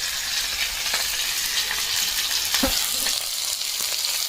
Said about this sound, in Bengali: এদিকে মাছ ভাজাটা হচ্ছে